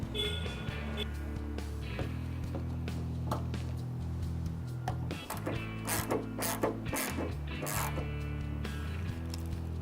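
Ratchet clicks as a 10mm headlight bolt is tightened on a GMC Sierra, a steady run of close mechanical ratcheting with a brief pause partway through.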